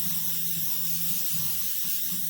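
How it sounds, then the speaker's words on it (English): An airbrush hisses steadily while spraying yellow paint around a silhouette design on a Harley-Davidson motorcycle fender, a soft continuous close-up hiss with a faint low hum beneath. "So I'm just spraying all out around this"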